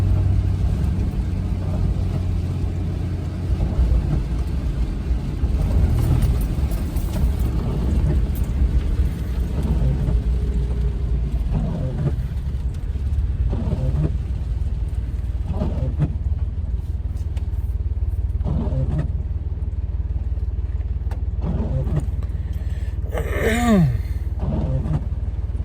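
A work truck's engine runs steadily while driving, a constant low rumble with faint shifting tones and a few brief whines.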